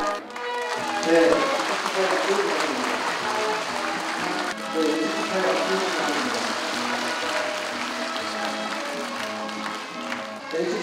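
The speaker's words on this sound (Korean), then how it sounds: "축하의 박수 부탁드립니다." Steady crowd clapping congratulating the outgoing Mungyeong mayor at his retirement ceremony, continuing for about eleven seconds beneath music and faint voices.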